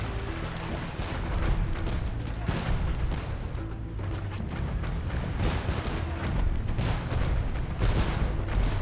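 Bombards pound a tower in Age of Empires II, a dense stream of booming cannon shots and crumbling impacts, steady and loud throughout with no pauses.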